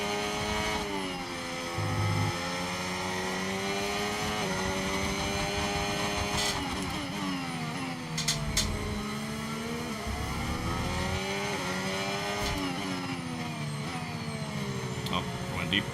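An F1 25 race car in a video game brakes and downshifts, its engine whining through rising and falling rev sweeps with sharp gear-change blips, while a voice talks over it throughout.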